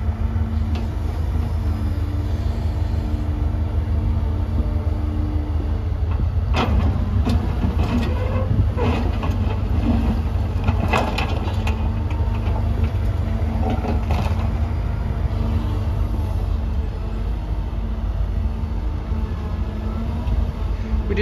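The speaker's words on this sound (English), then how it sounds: "He's gonna do a little digging for you and probably show you the benefit of having that thumb by grabbing some concrete." A Caterpillar 313F L excavator with a hydraulic thumb digging and grabbing heavy concrete, with a loud steady diesel engine rumble throughout and scattered scraping and clanking bursts in the middle.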